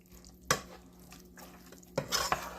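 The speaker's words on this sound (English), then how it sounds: "Stir that up." A carrot casserole mixture of carrots, onions, a homemade soup-mixture sauce and cheese is stirred in a dish, giving a few sharp scraping clinks against quiet kitchen background, with no talking.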